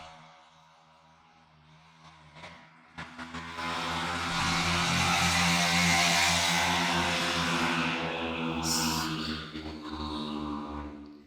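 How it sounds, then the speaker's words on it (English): Motorbikes doing laps outside at night, a distant engine drone swelling into a loud, sustained revving pass before easing off again, heard alone. "They drive me bonkers, those motorbikes."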